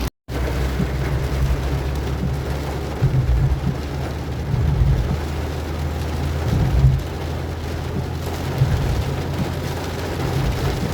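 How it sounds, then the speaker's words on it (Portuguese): A heavy afternoon downpour in Blumenau, Brazil, hisses outside in a dense, constant roar, with low rumbling swells rolling through it and no voices. "Muita água, muita chuva."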